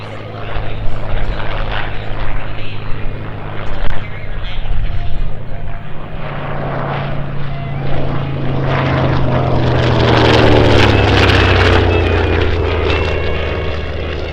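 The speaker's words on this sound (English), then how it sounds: "F4U Corsair is an American fighter aircraft" An F4U Corsair propeller fighter flies at an airshow, its piston engine droning loudly and building in intensity as it passes, with a rising then falling pitch sweep near the end; voices talk over it.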